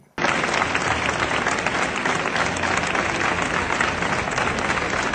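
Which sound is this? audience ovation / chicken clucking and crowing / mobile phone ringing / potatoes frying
audience ovation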